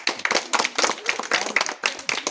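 Children in a primary school classroom clap for a classmate, a brisk, close, uneven patter of many small hands that runs on steadily without a break.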